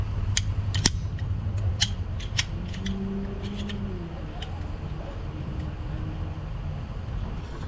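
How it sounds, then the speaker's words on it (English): Scissors snip through a rubber coolant hose in an engine bay, giving several sharp close cuts in quick succession over a steady low hum, and a faint voice briefly joins midway. "So I'm gonna pull this completely off and trim it down."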